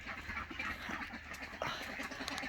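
Ducks being fed among an old brood and extra ducks give soft, scattered quacks and chatter, faint and close, with no talking.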